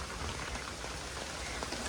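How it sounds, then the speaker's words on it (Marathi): Light rain falls steadily, a soft continuous patter of drops close by, with no voices over it. "मस्त रिमझिम रिमझिम पाऊस चालू आहे"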